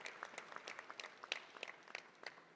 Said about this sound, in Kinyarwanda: nagira ngo nsabe mumfashe kumukomera amashyi. Amashyi menshi